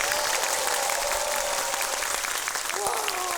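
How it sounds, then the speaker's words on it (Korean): Studio audience applause on a Korean talk show, a dense continuous patter of many hands at even loudness, with a faint sustained musical tone running underneath. "박수 부탁드립니다"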